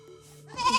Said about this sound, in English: Just take your goat and go in peace, Biko.